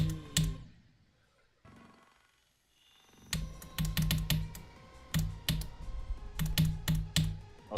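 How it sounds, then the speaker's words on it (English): Computer keyboard being typed on while it rests on a soft surface, with bursts of rapid, fairly close clacking keystrokes separated by a short quiet pause, no voices. "Also, I tried putting my keyboard over a soft surface, so hopefully it's a bit more bearable"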